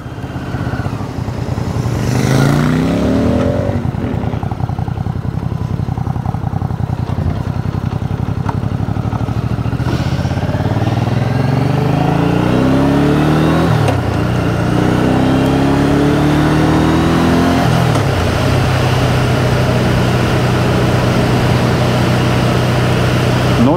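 A motorcycle engine drones steadily at close range while riding, its pitch rising and falling through several gear changes and throttle swells.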